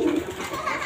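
A pet pigeon or dove cooing steadily up close in a bird coop, a low continuous coo filling the short moment with faint background noise.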